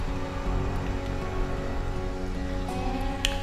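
Steady rainfall in the survival colony-builder game Stranded: Alien Dawn, a constant broadband patter and wash with a faint hum underneath and a couple of brief clicks, no voices.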